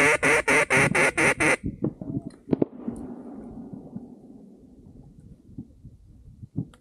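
Ducks quack loudly in a rapid series of about seven calls during a duck hunt on Catahoula Lake, Louisiana, followed by quieter squawks, rustling and a few sharp knocks.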